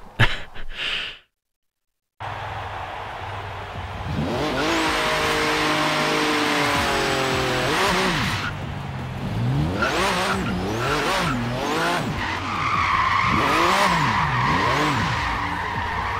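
A Porsche in Forza Horizon 3 revs and skids loudly, its engine note rising and falling through gear changes while tires squeal in long slides, after a brief silent gap at the start.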